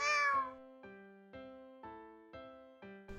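A single cat meow opens the sound, short and close, followed by a repeating pattern of gentle musical notes.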